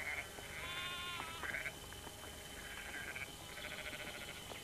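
Several sheep bleat in repeated wavering calls over a low rumbling background, fairly close and overlapping, with no voices.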